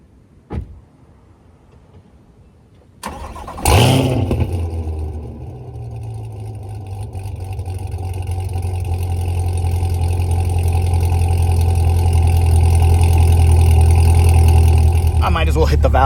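A click, then a Chevrolet C8 Corvette's engine with a titanium exhaust cranks and roars to life with a brief rev before settling into a deep, rumbling idle that slowly grows louder.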